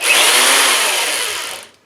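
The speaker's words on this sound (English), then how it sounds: "after I drill that hole, I can put a 1/2 inch ream in there and ream the hole" A drill press runs a 1/2 inch reamer through a drilled hole, a loud, steady whir close by that lasts just over a second and a half, then quickly winds down.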